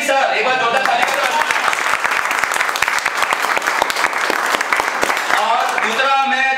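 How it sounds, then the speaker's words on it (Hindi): A class of telecom students claps loudly and steadily for several seconds in a classroom. A voice is heard at the start and end over the dense applause. "एक बार जोरदार ताली दो"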